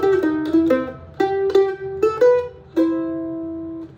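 A mandolin plays a country blues lick in C, a series of bright picked notes in uneven phrases with short pauses, closing on a sustained ringing note, close and alone.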